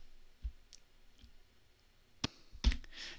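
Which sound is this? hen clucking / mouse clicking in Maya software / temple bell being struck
mouse clicking in Maya software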